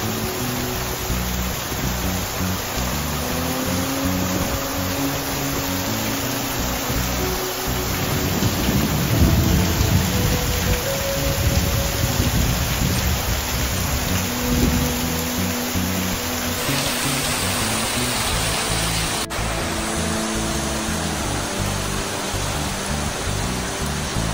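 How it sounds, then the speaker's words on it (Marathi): Steady, heavy rain pours throughout during a storm in Mumbai with a dense roar, joined by low rumbling from the storm that swells midway before settling back. "आता वादळ आणि पाऊस दोन्ही पण एकत्रच चालू झालेले"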